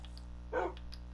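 A tamed wolf dog in the video game Minecraft gives a single short bark over a steady low game hum, fairly close and clear.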